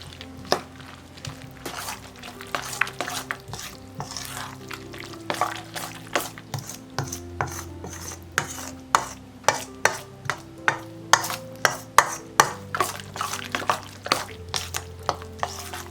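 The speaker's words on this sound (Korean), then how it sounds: "잘 섞어줍니다." Spoon strokes stir a batter of salted old cucumber with chili flakes, two eggs and flour in a bowl, giving repeated scraping and clacking hits at an uneven, brisk pace under steady background music.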